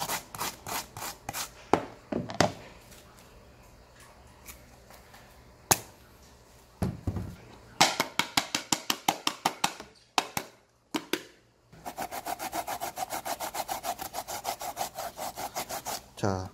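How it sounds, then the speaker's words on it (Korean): Zucchini squash being grated by hand, close and fairly loud: bursts of quick, rhythmic rasping strokes, some short runs and some long, separated by brief pauses, with no talking. "호박도 이렇게 갈아주면 좋습니다"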